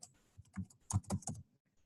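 Typing into a web search field on a computer keyboard, with a short burst of crisp, close key taps in an uneven rhythm followed by quiet.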